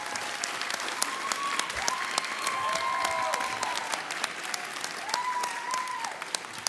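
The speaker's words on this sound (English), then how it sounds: "Graduates, would you like to applaud your family members and friends who applauded you?" Audience applause fills a university graduation hooding ceremony for psychology graduates, a steady, sustained clapping from a large crowd at moderate distance, with faint cheers rising through it.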